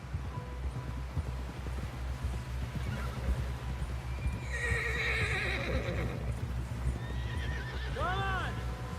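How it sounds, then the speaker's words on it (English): Hooves clip-clop steadily beneath voices in the video game Red Dead Redemption 2, then a horse lets out a loud, quavering neigh near the end. "Someone help John down off this horse."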